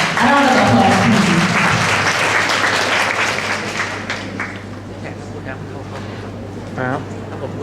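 An audience at a university speech competition in Thailand gives a competitor a loud round of applause that fades over several seconds, with an announcer's voice heard at the start and end.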